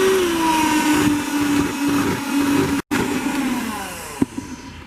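SilverCrest SHM 300 C1 hand mixer from Lidl whirring steadily as it mixes batter with egg, a loud close motor whine with a brief cutout near the middle and a small clunk toward the end.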